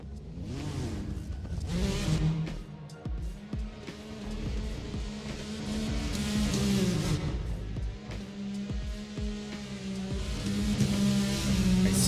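A BMW M4 drift car at a drift competition at ESDA Irwindale revs hard through long howling engine sweeps, with sharp bursts and tire noise and the sound rising and falling as the car works the course.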